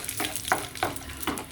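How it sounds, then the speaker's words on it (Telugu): Spices for tempering crackle in hot oil over a low flame, a close, steady sizzle broken by four sharp pops spaced about evenly, with no one talking. "ఇలా పోపు ఎగుతుంది."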